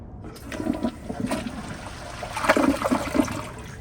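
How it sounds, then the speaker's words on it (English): A Glacier Bay elongated dual-flush toilet on its half-flush setting, heard as a single close, steady rush of draining water swirling through the bowl for several seconds with no talking. "here's a flush on a half flush"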